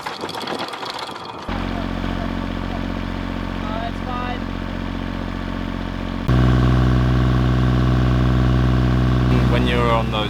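A small sailboat's marine engine running steadily at close range, a constant droning hum that steps up louder partway through as the revs increase.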